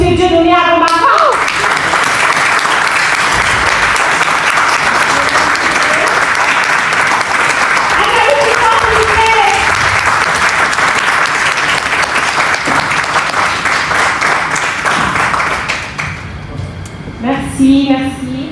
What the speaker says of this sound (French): Une ovation, s'il vous plaît, pour M. Dieudonné Agomapa.